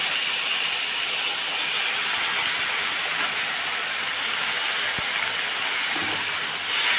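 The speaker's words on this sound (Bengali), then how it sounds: "এইবার আমি তরমুজের খোসা গ্রেট করা এর মধ্যে দিয়ে দিলাম" Grated watermelon rind lands in a pan of hot spice tempering and sizzles with a loud, steady hiss that carries on unbroken, with a faint clink partway through.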